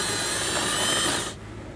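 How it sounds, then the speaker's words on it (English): A power tool whirs steadily on a 10mm socket as it loosens a bolt on a Hummer H3. The sound is a loud, continuous high-pitched drone close by, and it cuts off abruptly near the end. "use a 10mm socket, loosen and remove this one"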